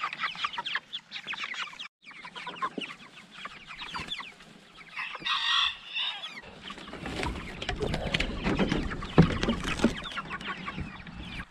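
Chickens cluck and murmur in a steady, busy chorus close by, with a brief higher burst midway and some rustling and low rumble underneath.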